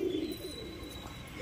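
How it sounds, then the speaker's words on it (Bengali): A male pigeon, kept as a hand-flying bird, gives a brief low coo at the start, then fades to faint background noise before a soft rise at the very end. "একটা নর পায়রা"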